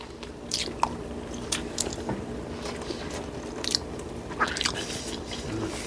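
Crispy fried fish eaten with taro, with close, crunchy bites and chewing clicks repeating over a quiet room tone.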